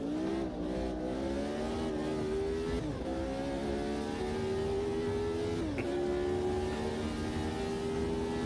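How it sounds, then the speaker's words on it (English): Race car engine in a racing video game revving smoothly and climbing in pitch, dipping at two gear shifts before rising again, loud and continuous with no talking. "You hear how smooth the revs just keep climbing."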